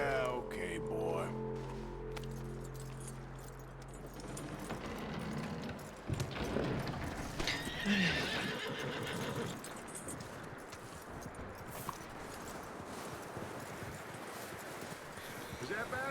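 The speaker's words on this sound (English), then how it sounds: "That looks like a decent horse." Horse hooves clip-clopping in Red Dead Redemption 2, a steady rhythmic gait under continuous game ambience and music, with people talking over it; no clear whinny stands out.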